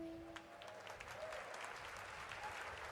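An audience claps steadily at a live game showcase, Day of the Devs alongside Summer Game Fest. The applause is a dense, even patter from a crowd, fairly soft and without talk.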